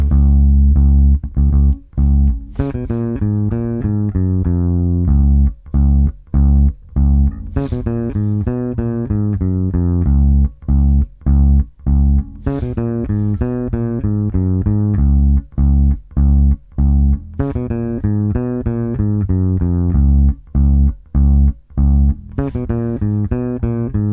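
A bass guitar plays a slow fill built from groups of four notes, clear and close with distinct plucked notes separated by short gaps, repeating the phrase several times with no voice.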